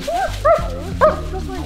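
A search and rescue dog in training gives three short, high yipping barks in quick succession, close and loud, with some background sound around them.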